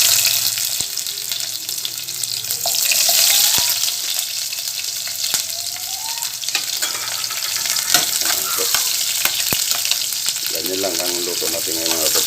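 Garlic and onion fry in a pan at home with a bright continuous sizzle, punctuated by sharp spatula taps and scrapes; a voice speaks briefly near the end over the crackling oil.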